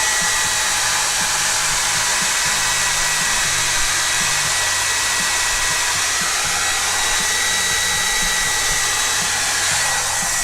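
A hair dryer blows steadily at close range in an art studio, giving a loud, even whoosh of air with a constant motor whine for over ten seconds and no speech.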